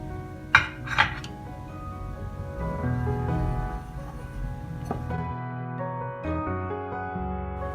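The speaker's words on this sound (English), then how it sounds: "Now I'll be putting in curd and we'll mix everything really well" Semolina batter being mixed with curd in a metal bowl, sharp spoon clinks at the start followed by steady scraping and stirring against the sides.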